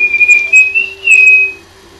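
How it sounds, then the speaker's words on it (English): A person whistles a short, clear, high melody of a few sustained notes indoors during a Kirby Super Star game session, close and fairly loud, with faint game sounds beneath. "Don't whistle."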